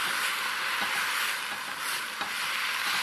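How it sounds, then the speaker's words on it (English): Chicken ramen with soy sauce being stirred in a hot pan gives a dense, continuous sizzle with a few faint scraping touches, close and steady throughout, with no voices. "Give that a stir."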